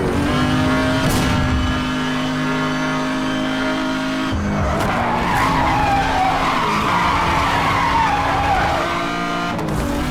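Tires skid and squeal as a car drifts through corners in the racing video game Need for Speed Hot Pursuit Remastered, with a steady engine drone and continuous screeching across the whole stretch, loud and without talk.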